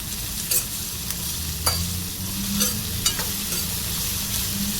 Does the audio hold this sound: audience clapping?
no